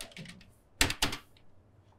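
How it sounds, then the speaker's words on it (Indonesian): A couple of sharp, close keystrokes on a computer keyboard, two quick clacks standing out above a quiet room. "Lu ngetik beneran gak sih?"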